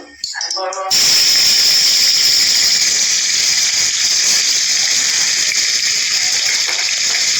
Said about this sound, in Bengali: এখন সমস্ত মাছ আমি ভেজে নেবো। কড়া করে ভাজবো।